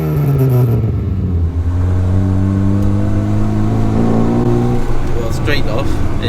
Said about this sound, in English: straight off is that exhaust pipe's clearly straight through